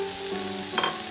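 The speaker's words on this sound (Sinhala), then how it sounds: "දැන් මේ ලුණු මල් බැදුම හොඳට බැදගන්න මම මේ විදිහට පියනකින් වහගන්නවා." Cauliflower stir-frying in a pan gives a close, continuous sizzle with a brief burst of stirring scrape near the end, and no voices.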